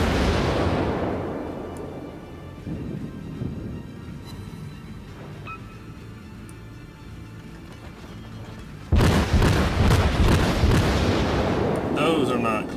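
Heavy naval gunfire from a warship in World of Warships, the Japanese cruiser Chikuma, rumbling under steady battle noise, then a loud burst of salvos near the end with booming blasts; someone talks over parts of it.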